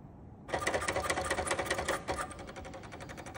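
An HP 7475A pen plotter starts up abruptly and draws with a fast, buzzing, stuttering mechanical chatter of rapid pen and motor strokes. It is close and steady, with no talking.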